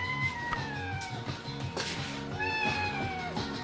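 A cat meows repeatedly indoors, its drawn-out, rising and falling cries close and fairly loud over a steady low background hum.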